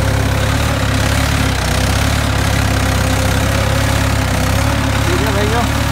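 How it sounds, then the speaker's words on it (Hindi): A Mahindra 585 DI XP Plus tractor engine pulling a plough in 10th gear, a steady loud diesel drone with low knocking pulses, close and continuous throughout. "ये देखो किस प्रकार से चल रहा है ट्रैक्टर"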